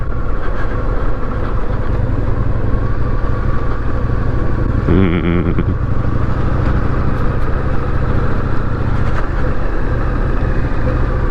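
Indian motorcycle with a new exhaust riding on the Cairn o' Mount road from Fettercairn to Banchory, a loud steady engine drone and wind roar throughout, with a brief higher whine partway through.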